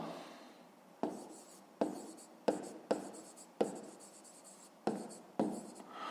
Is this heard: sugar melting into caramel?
no